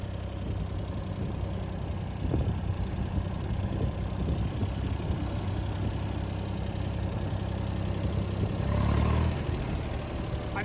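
A Ford 2600 tractor engine idles steadily with its governor pulling back on the throttle, a low, even diesel rumble that holds constant with a brief rise near the end.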